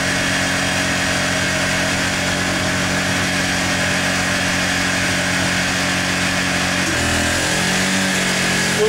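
Honda portable generator running steadily with its eco throttle switched off, giving a loud, close, constant engine drone with a slight waver near the end, and no talk.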